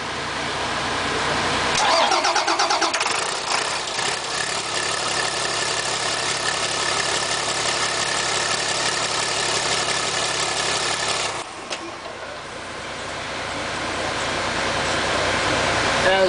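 Bus engine cranking and starting for the first time after a new cylinder head was fitted, catching at about two seconds and settling into a loud, steady idle with a brief dip in level near eleven seconds.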